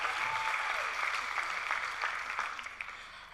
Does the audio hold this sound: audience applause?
yes